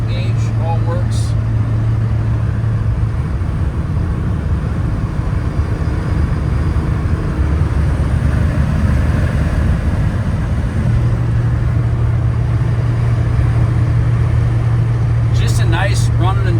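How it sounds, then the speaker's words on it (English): Steady engine drone from inside a moving 1985 Chevrolet K10 Silverado 4x4 pickup truck, a constant low hum with road noise throughout, no breaks. "Just a nice running and driving truck."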